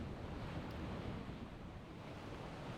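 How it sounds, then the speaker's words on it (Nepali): Ocean waves of roughly 12 to 15 feet surge against a rocky coast at Sao Teotonio, a broad continuous roar mixed with wind buffeting the microphone, with no voices. "यो ठाउँमा लगभग 12-15 फिटको छाल आउने रहेछ"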